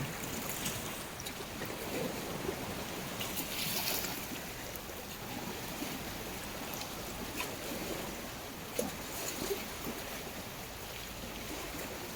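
Steady wash of water and boat noise on the sea off Sardinia, a continuous broadband hiss with faint splashes and no voices, the busy weekend traffic blending into one even roar.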